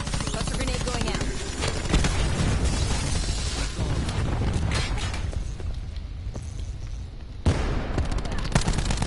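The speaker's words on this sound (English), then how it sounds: "Cluster grenade going out." A cluster grenade goes off during a Call of Duty Black Ops 4 match, with loud bursting blasts and mechanical clatter over dense, busy game noise and in-game voices, then a sharp pop near the end.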